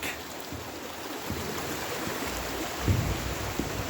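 Continuous rushing water, Eagley Brook in Bolton flowing fast beneath an iron bridge, with steady broadband hiss and occasional low bumps, no voices.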